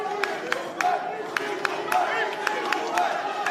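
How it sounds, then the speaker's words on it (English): Fight crowd cheers and screams for the fighter Likkle during a bout, a loud steady roar punctuated by sharp repeated strike slaps, with a commentator talking over it. "The crowd getting behind the fighters now here and screams at Likkle"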